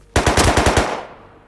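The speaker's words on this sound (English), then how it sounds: "There's no fucking way he just ate 4 shots from MP5." MP5 submachine gun fire in the survival game Rust: a single rapid burst of about six or seven sharp, loud shots that ends quickly, with no talk over it.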